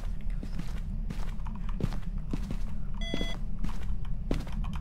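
An EMF reader in the video game Phasmophobia gives a short electronic beep partway through, heard over scattered in-game footsteps and thuds, with no speech.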